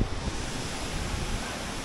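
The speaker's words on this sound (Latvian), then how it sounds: "Nu jā, ļoti smuks ūdenskritums." A waterfall in Morocco roars as a dense, steady wash of rushing water, loud and continuous with no pauses or voices.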